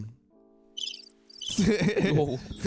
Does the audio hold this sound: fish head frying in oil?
no